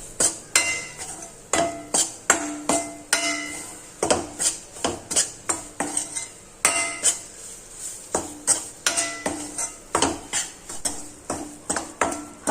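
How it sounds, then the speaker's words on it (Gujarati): A spoon stirs flour roasting in ghee in a pan for a traditional dar sweet, giving a steady series of sharp metallic scrapes and clinks against the pan, close and fairly loud, with no talk. "મિક્સ કરી દેશું અને એકદમ સરસ રીતના આપણે લોટને ઘીમાં શેકી લેશું"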